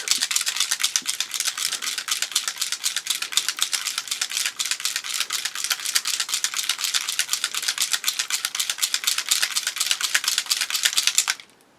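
A small bottle of model paint, an enamel rust-streak wash, rattled hard by hand for about eleven seconds, a fast continuous clattering of the agitator ball that stops abruptly at the end.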